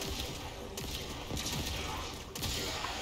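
Rapid gunfire from a customized kitgun weapon in a video game, a dense run of repeated shots with sharp impact bursts standing out over a steady, noisy game soundscape.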